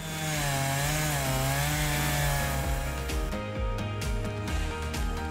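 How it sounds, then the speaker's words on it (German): During a tree-felling job, a chainsaw cuts up wood from a felled tree, its loud engine whining continuously and shifting pitch as the chain bites into the timber. "Das abgetragene Holz wird mit der Motorsäge zerkleinert"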